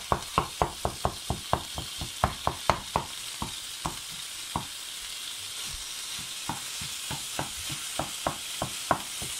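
Ground meat sizzles steadily in a pan while a utensil stirs it, sharp knocking scrapes coming in quick regular bursts against the hiss, close up with no talking.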